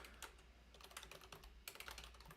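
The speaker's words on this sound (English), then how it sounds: "Oh man, I'm typing terribly." Rapid clicking of keys on a computer keyboard, typed in quick irregular bursts with a short pause midway, close and fairly quiet.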